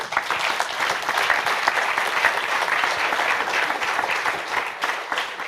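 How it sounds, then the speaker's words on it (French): An audience applauds four speakers at a French data and AI business morning event, with dense, steady clapping that holds evenly throughout the clip. "Merci à tous les quatre, on peut les applaudir."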